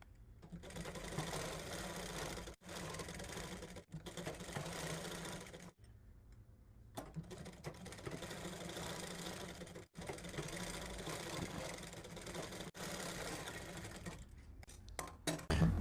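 A sewing machine stitches a sleeve onto a plain blouse, running in a series of steady close bursts broken by brief stops, with no talking over it.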